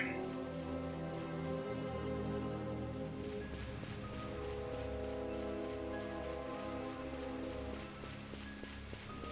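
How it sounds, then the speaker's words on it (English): Rain in a video game, falling in a high mountain area: a steady, soft patter of raindrops on surfaces, continuous and low in level with no other clear sounds. "It's weird that it's raining here, even though this is technically like higher up than the snowy path."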